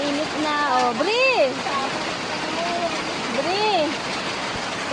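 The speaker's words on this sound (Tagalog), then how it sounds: "Stranded kami, lakas ng ulan." Heavy rain pours steadily as a dense, loud hiss and splatter throughout, while voices talk and call out over it.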